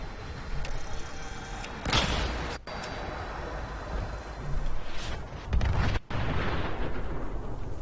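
A large explosion in the video game Fallout 76, with broadband bursts near 2 and 5.5 seconds over a steady rumbling game background, loud and close.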